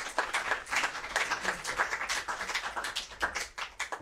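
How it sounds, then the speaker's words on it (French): An audience applauds Professor Benazara at a Cheikh Anta Diop Day gathering in 2019, with uneven, fairly sparse clapping that swells and thins over a few seconds, close and moderately loud, and no talk over it. "Je vous demande d'applaudir le professeur Benazara"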